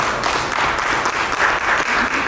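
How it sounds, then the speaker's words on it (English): An audience at a national summit on the sustainability of HBCUs breaks into sustained applause, a dense, steady wash of many hands clapping close by with no gaps for its whole length. "Let's give him a round of applause for that."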